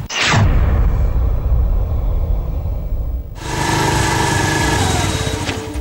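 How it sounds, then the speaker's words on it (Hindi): Motorcycle started remotely by a phone call: a loud engine already rumbling close by, then a sharp rise into a brighter, higher rev that holds steady to the end. "एक कॉल पर बाइक स्टार्ट"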